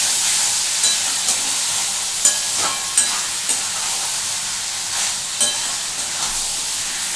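A spoon stirs bottle gourd and prawn curry in a pan, with steady sizzling and a run of soft scraping strokes close by, no voices.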